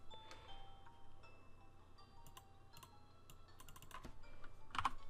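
Computer keyboard being typed on in a quiet room, a scattering of light clicks and a few sharper keystrokes, close and fairly soft, with a quick cluster near the end.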